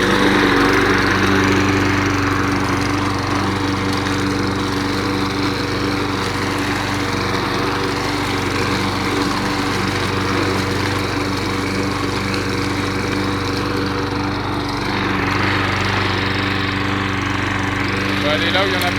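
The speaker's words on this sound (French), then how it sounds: "C'est de la Toro recycleur en mulching." Toro mulching lawn mower with a warm engine cutting through leaves, a steady close drone running throughout with slight shifts in load as it moves.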